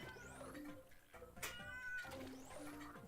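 A cat meows repeatedly in long, sliding, whining cries, several in a row with brief gaps and a sharp click between, close and clear with no talk.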